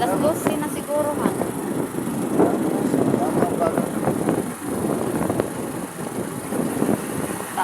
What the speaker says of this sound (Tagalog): Mahangin masyado.